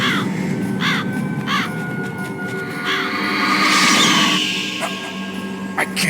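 Ravens caw in the Metal Gear Solid video game, several harsh rhythmic calls repeating at close range over a droning in-game background, with no talk.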